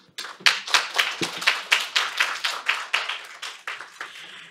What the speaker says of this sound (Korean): 이현주 그 박사님께 박수 부탁드리겠습니다